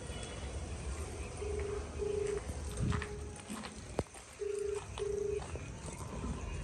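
A phone places a call to a restaurant: several short ringback tones pulse at an even rhythm over faint background noise, with no voices.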